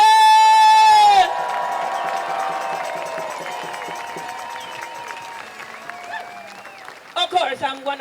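A crowd at an outdoor No Kings rally in Ithaca, NY applauds and cheers after a sustained tone at the start, the clapping spread and moderate, with shouts and voices breaking out louder near the end.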